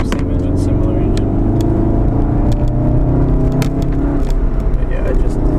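A Volkswagen Golf R accelerating hard, its engine giving a loud, sustained whirring drone with steady road roar. The sound stays close and dominant throughout.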